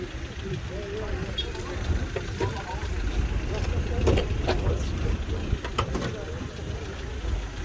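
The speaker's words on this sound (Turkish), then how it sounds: "Bu da avtomobilin qabaq sesi." A 1998 VAZ Lada engine idles with a steady low rumble, accompanied by faint clicks and rattles and some muffled background talk, at a car market.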